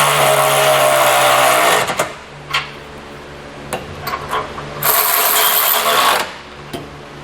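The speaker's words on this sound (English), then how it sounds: "Then we want to come back with a 19mm socket and tighten up all the hardware." A 19mm socket on a ratchet tightening trailer hitch bolts on a 2017 Buick Enclave, with two long bursts of loud, rapid clicking close by, separated by quieter scraping and small metallic knocks.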